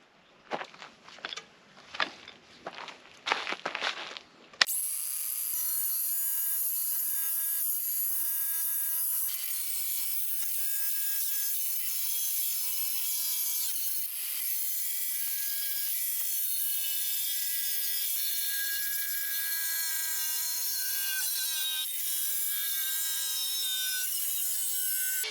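Clay roof tiles are cut with a power saw under a gentle hose spray, a few sharp knocks and scrapes first, then a loud, sustained high whine of the blade biting through the tile.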